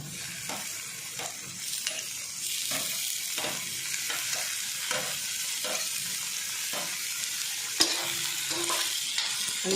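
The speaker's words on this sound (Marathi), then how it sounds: "सगळं व्यवस्थित परतून घ्यायचं" Tomatoes and crushed spices being sautéed in a pan, with a soft background sizzle broken by repeated scraping stir strokes at an irregular rhythm.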